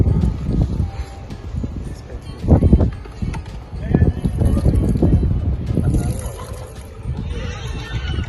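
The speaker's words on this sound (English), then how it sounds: "And now we're gonna simulate the rain with this bottle of water." Water poured from a bottle over a small environmental model to simulate rain splashes and patters in uneven bursts, fairly close, with busy background noise throughout.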